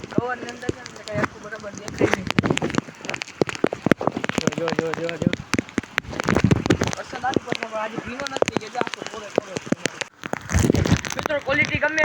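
Heavy monsoon rain in Rajkot patters steadily on surfaces in a dense, continuous hiss, with a voice talking over it throughout at close range.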